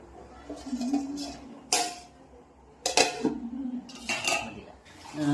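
A metal ladle stirring Kerala-style tuna coconut fish curry in a pot, with sharp clanks and scrapes against the vessel in irregular bursts, separated by quieter gaps and faint low voices.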